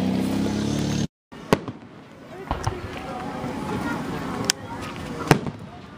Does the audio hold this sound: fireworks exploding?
yes